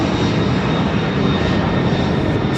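An aircraft engine at Miami Airport roars in a loud, constant broadband drone that fills the whole stretch without a break.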